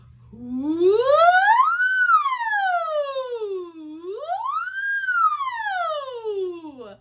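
A single voice imitates a siren, gliding smoothly from low to high and back down twice in a long continuous wail, close and clear.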